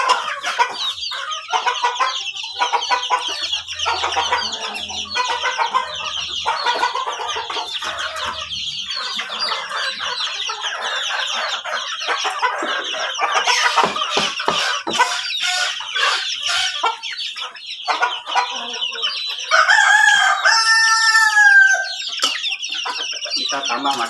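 Free-range village chickens cluck steadily at close range, with a rooster crowing out clearly near the end over the busy flock chatter.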